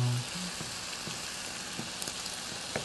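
Chopped onion and hamburger meat frying in a pan, a soft continuous sizzle with occasional small pops and spatters, fairly quiet and heard alone.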